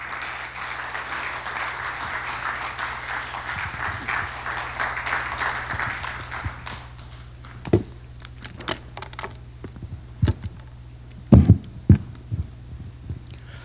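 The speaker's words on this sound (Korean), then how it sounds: "우리 교수님 나오실 때까지 큰 박수로 환영해 주시기 바랍니다" Seminar audience clapping to welcome a lecturer, a dense wash of applause that thins after several seconds into scattered knocks and thumps over a low room hum.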